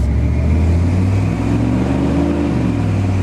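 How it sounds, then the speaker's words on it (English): A car with a newly replaced automatic transmission accelerates on a road, its engine droning loudly and steadily with a low rising hum as it pulls through the gears. "We're going to get a little gas and listen good."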